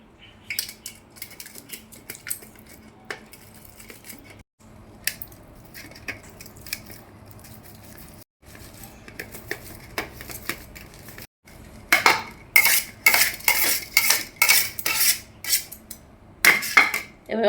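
Boiled eggs are pressed and mashed with a spoon in a bowl for an Odia-style egg bharta, giving repeated clinks and scrapes of metal against the dish that turn louder and quicker toward the end.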